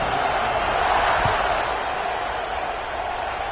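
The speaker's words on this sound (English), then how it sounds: "this crowd is buzzing after that last score" Broad, steady roar of a large college football stadium crowd buzzing after a score, filling the space continuously and evenly without distinct cheers.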